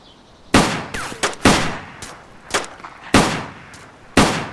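Video game gunfire rings out in about six sharp, loud shots spaced irregularly, each with a short decaying tail, alone without talk.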